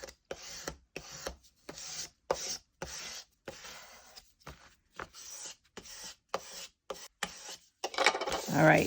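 A scraper rubs paper flat inside a book junk journal in short rhythmic strokes, each a soft scratchy swipe separated by brief pauses, near and fairly quiet, ending with a louder rustle.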